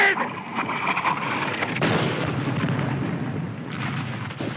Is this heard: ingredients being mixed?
no